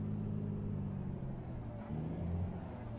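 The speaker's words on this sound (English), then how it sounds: "This is a 300 horse Detroit that this old truck has." A 300 horsepower Detroit diesel engine with a 6-speed gearbox in an old truck in American Truck Simulator, a steady low rumbling drone with a faint whine rising and falling over it, no voices.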